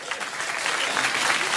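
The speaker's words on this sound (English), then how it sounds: "Don't give her a round of applause." Studio audience on a late-night talk show breaking into steady, dense applause, loud and close, with a faint murmur of crowd beneath the clapping throughout.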